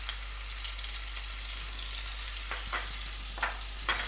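Ginger and garlic fry in sesame oil in a pan, giving a steady soft sizzle with a few brief scraping stirs near the end; quiet, with no talking.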